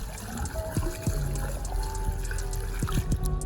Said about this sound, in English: So I'm going to see how long does it take to fill up this hole.